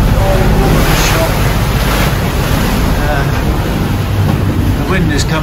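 A sailing boat motors straight into the wind through rough, confused seas, with loud, constant wind buffeting and rushing water and waves close by, and a voice under the noise.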